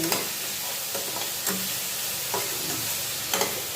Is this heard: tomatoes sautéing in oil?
yes